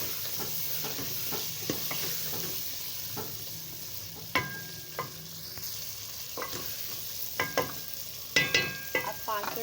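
Chopped capsicum sizzles and fries in a pan after tomatoes, with a soft steady hiss broken by several sharp scraping clinks as a spoon stirs it.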